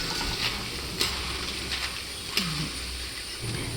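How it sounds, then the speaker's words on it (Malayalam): Jackfruit chips fry in hot oil with a soft, continuous sizzle, punctuated by a few sharp clinks from stirring. "ചക്ക വറുത്തത് നല്ല മൂത്തു എന്ന് അറിയണമെന്നുണ്ടെങ്കിൽ അതുപോലെ ചിൽ ശബ്ദം കേൾക്കണം എന്ന്"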